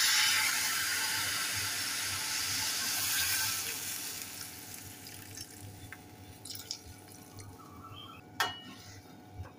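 Water poured into a hot pan of dried shrimp and raw mango, a loud hissing rush at first that fades into quieter bubbling and a few drips and clinks.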